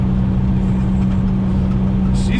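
A pink 1969 Volkswagen Beetle driving on its first run in 14 years, a steady low engine hum with a constant droning tone, heard from inside or close by, with faint speech near the end.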